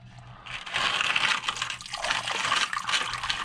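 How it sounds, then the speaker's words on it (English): Water gushes steadily out of an old oil filter on a junkyard small-block engine that sat for 29 years, a continuous splashing pour lasting several seconds with no one talking. "Oh, sure enough, filter is full of water."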